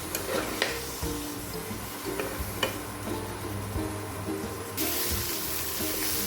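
Tomato masala for hotel-style chicken kadai being stirred in a hot pan, a close scraping and shuffling of the spoon over a constant sizzling fry, with no voices.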